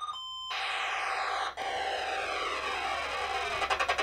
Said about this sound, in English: Let's launch another missile.